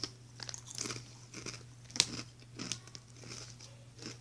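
Crunchy nacho cheese snacks are bitten and chewed close up, giving a steady series of crisp crunches with one sharper snap partway through, over a low background hum and with no speech.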